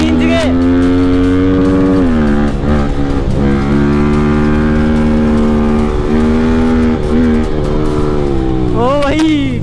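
Motorcycle on a mountain highway revving hard, its engine whining up and down through several throttle blips with intermittent exhaust pops, loud and close, while someone talks over it.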